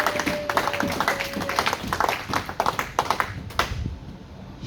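Church congregation clapping and applauding loudly at a preacher's call to acclaim the Lord, a dense, steady patter of many hands with a few voices mixed in, fading toward the end.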